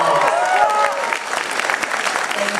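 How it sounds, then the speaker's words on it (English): A convention panel audience applauds a guest, dense sustained clapping from a large crowd that fills the whole stretch and eases slightly toward the end. "give her one more big round of applause for Sumalee Montano"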